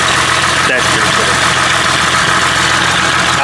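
A Ford 4.0 engine idles steadily with a small exhaust leak and a light rattle, a continuous mid-range drone with a brief louder burst near the start and faint voices in the background.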